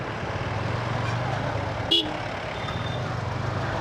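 Congested street traffic in Bangladesh, with a dense, steady rumble of idling and creeping motor vehicles and one short, loud horn toot partway through.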